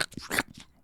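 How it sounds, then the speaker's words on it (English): Close, crisp crunching of someone eating crisps, a few short bursts of bites and chews in a quiet room with no talking. "Chewing noises?"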